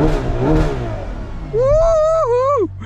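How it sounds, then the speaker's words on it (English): A Ferrari 12Cilindri V12 engine revs up sharply toward 9,500 rpm, its pitch rising and wavering at high revs for about a second before cutting off, loud and close. "this V12 revs all the way to"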